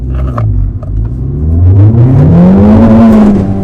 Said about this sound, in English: Grinding that second gear.